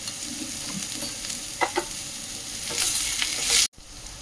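Vegetables fry in hot oil with whole mustard seeds and a little turmeric powder, giving a steady close sizzle with a few sharp stirring clatters, growing louder near the end before cutting off abruptly.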